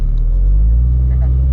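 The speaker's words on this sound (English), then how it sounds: "climbing up this hill, I might have to go into four-wheel drive finally" A four-wheel-drive vehicle grinds up a dirt hill in low range, its engine a steady, loud low rumble close by with no break.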